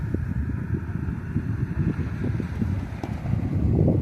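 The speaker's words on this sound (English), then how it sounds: "it's kind of windy, quite windy out here" Steady wind gusting and buffeting outdoors, a low rumbling roar with no voices, continuous throughout.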